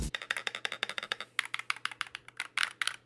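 Rapid clicking of custom keyboard-style switches on a Snackbox Micro controller, a steady run of sharp, close taps in quick bursts with a brief pause midway, no voices.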